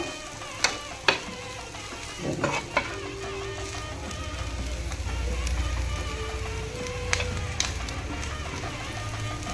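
Onions sauté in a pan for paneer butter masala, a steady close sizzle and crackle with a few spoon-stirring knocks early on.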